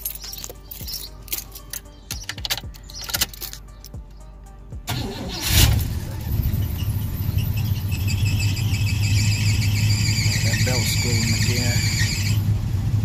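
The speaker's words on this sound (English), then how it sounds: "Belt squealing stop." A 1986 Cutlass four-door car engine cranks and catches after scattered handling noises, then idles roughly with a loud, sustained high-pitched belt squeal over a steady low engine drone.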